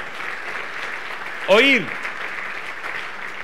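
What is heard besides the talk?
congregation applauding in church service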